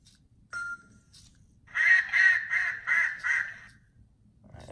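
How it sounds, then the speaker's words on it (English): A smart speaker plays a duck quacking: one short call followed by a run of five loud nasal quacks in quick succession, near and clear against a quiet room. "Alexa, what sound does a duck make?"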